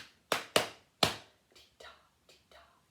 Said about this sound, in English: Clap that now with me.